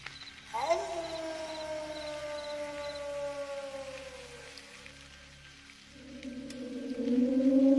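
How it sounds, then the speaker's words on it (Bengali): A jackal howls far off on a still, foggy night, its long wavering cry gliding downward and then rising again over a low, pulsing backdrop. "দূরে কোথাও শিয়ালের ডাক ভেসে আসছে।"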